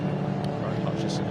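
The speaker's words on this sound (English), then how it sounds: "Cars weaving around, just trying to get a little bit of heat in the tyres" Mini JCW race cars weave around the Snetterton circuit on a cold formation lap, engines droning steadily at mid distance with a broadcast commentator talking over them throughout.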